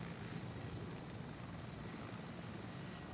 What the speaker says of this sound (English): Helicopter from northwest.